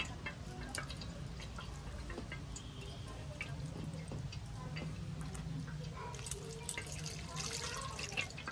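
Water runs and drips in a kitchen as chhana curd is rinsed for rasgulla, a trickling, irregular splashing with small clinks, fairly close and without talk.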